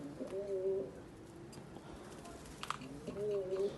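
Soft coos from play pigeons sound twice, once near the start and again near the end, over quiet background murmur.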